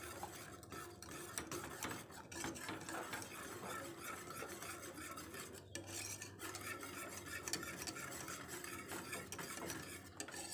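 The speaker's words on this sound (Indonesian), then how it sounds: "Kita aduk-aduk sampai tepung terigunya nggak ada yang menggelindir." A spoon stirs flour batter for kue nona manis in a bowl, giving soft continuous scraping and swirling with light clinks against the side.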